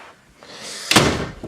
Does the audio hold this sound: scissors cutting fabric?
no